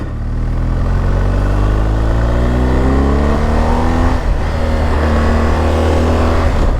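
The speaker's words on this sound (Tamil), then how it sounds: "இன்ஜின் சவுண்ட்ஸ் குட் பாருங்கள், ஸ்மூத்தாக." A BMW R 1250 GS motorcycle engine runs smoothly and loudly while riding, a steady close drone that rises and shifts in pitch as it accelerates.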